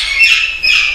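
Parrots at a breeding nursery give two harsh, loud, close squawks in quick succession, with no talking.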